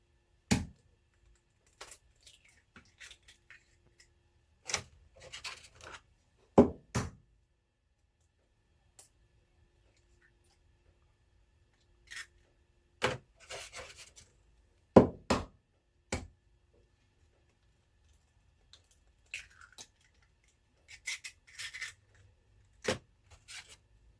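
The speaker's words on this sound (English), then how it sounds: "now I am going to crack open my eggs to make my scrambled eggs" Eggs are cracked open for scrambled eggs, heard as scattered sharp taps and knocks in a quiet kitchen, with short pauses between the cracks.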